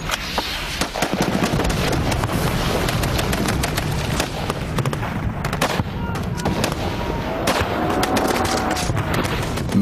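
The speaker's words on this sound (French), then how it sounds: "Give us covering fire." Covering gunfire cracks along a WWI trench line, with dense, irregular rifle and machine-gun bursts of shots near and far, loud and continuous over ten seconds.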